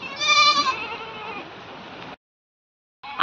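Sheep bleat in a wavering, nasal call in a rainy rural setting in Maharashtra; one loud close bleat fades into a quieter tail, then silence, with a brief sound returning at the end.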